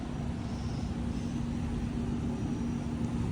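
A 2012 Camaro 6.2-liter aluminum-block V8 swapped into a C30 truck runs with a steady, loud, dense rumble and a constant low drone throughout, close up with no talk.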